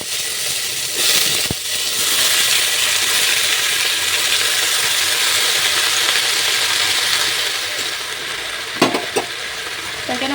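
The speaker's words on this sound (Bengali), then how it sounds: "তেল গরম হয়ে গেছে, এখন সবজিগুলো বসাই দেবো।" Vegetables sizzling in hot oil in a wok (kadai), a loud steady frying hiss lasting throughout, broken by a few sharp clanks of a utensil near the end, no talk.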